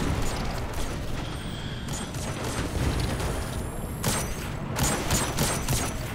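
Dense, steady gunfire fills a Destiny 2 firefight from the Witch Queen campaign, played as a Hunter. Continuous bursts and clatter run throughout with a few sharper loud cracks and no clear speech.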